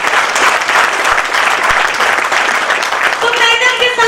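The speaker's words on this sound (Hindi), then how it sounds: "एक जोरदार ताली हो जाएगी लोग" A meeting audience breaks into loud, dense applause that carries on unbroken throughout, with a few voices audible under the clapping.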